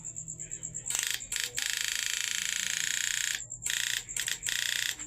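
An electronic buzzer wired as a loudness booster on a homemade SCR TYN812 1000 W PDC output circuit with a 60 µF 450 V capacitor sounds a loud, steady piercing tone in several long bursts with short breaks between them.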